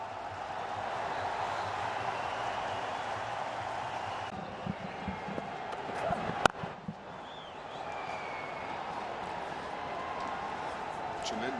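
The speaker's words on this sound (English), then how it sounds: "Tremendous applause from him. It's a sea of blue." Sustained roar of a packed stadium crowd applauding at a 2015 World Cup cricket match between India and Pakistan, a broad, steady wash of cheering and clapping beneath a commentator's talk.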